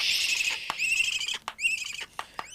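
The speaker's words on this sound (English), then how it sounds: "the owls are going to object. So take no notice of the noise" Owls screech and squeal in loud, harsh repeated calls while leather leg straps are fitted to them, with short rustling knocks and handling sounds between the shrill cries, close and without talk.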